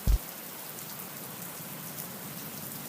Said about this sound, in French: cette petite pluie qui tombe sur le sol et qui fait ces petits bruits